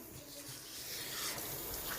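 Tap water runs softly into a sink during face washing, a faint, steady splashing stream that swells slightly toward the end, with no voices.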